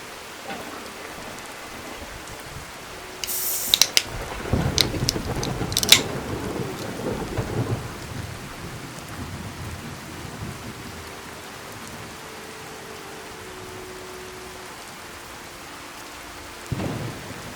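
Steady rain pours throughout a Fallout 4 thunderstorm, with a sharp nearby thunder crack and rumbling peals in the early middle and a later distant boom, no voices.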